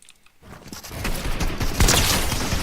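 Dense, loud assault rifle fire in Fortnite, a sustained rattling volley that swells after a brief quiet start and stays heavy to the end.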